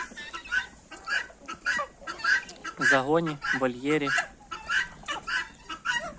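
Black Copper Marans chickens cluck and call repeatedly near and far, with a rooster-like drawn-out call in the middle, while someone talks over them.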